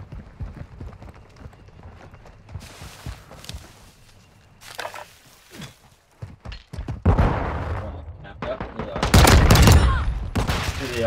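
Gunfire in Call of Duty Modern Warfare 2 starts as scattered sharp shots over quiet footsteps and movement, then builds into dense, loud bursts of rapid fire toward the end.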